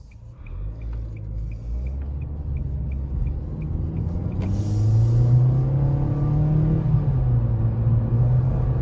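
A 2020 Nissan Kicks with a CVT pulls away from a stop, its engine drone rising smoothly and steadily in pitch from inside the cabin, with a faint rhythmic ticking early on.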